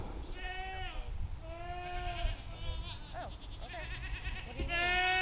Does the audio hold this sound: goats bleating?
yes